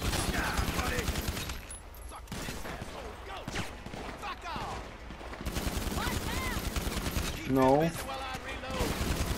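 Rapid bursts of gunfire from Grand Theft Auto V play in a near-continuous volley under excited talking voices.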